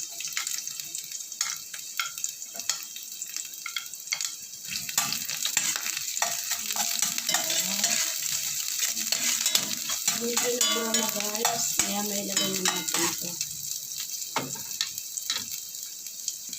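Garlic frying in a pan while it is stirred, with a sizzling hiss and scraping, clattering stirring strokes that grow busier midway; no one speaks.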